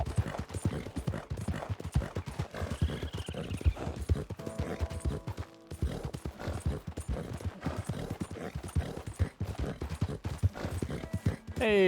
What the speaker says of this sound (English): Hey, wild horses.